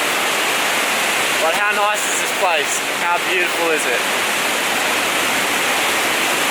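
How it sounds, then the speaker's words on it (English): A powerful waterfall in Ubud, Bali pours down in a constant loud roar of rushing water, while a person speaks briefly over the steady crash. "I tried to get underneath the waterfall, but it was just too strong."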